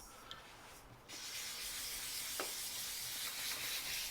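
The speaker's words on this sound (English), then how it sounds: "Just sanding very lightly" A soft, steady wet scratching hiss of fine sandpaper lightly rubbing primer on a 1920s AGM 288 lantern, starting after a brief pause and continuing evenly with no talking.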